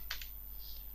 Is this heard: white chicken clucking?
no